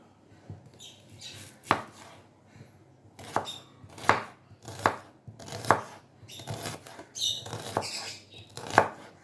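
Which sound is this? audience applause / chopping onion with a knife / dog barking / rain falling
chopping onion with a knife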